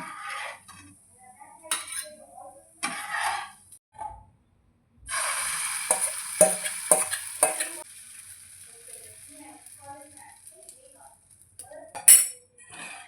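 A bread omelette with vegetables and sweet corn is lifted out of a pan: a spatula scrapes and clinks against the metal in short bursts, with faint sizzling in between, close and fairly quiet.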